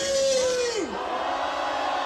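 A large crowd at an anti-impeachment rally outside the Corruption Investigation Office in Korea roars in a loud, sustained collective shout as a sliding tone drops away beneath it.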